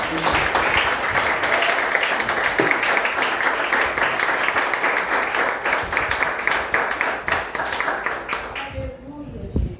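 A church congregation claps together in sustained, dense applause that stays loud and steady, then fades out near the end, with voices mixed faintly in the crowd.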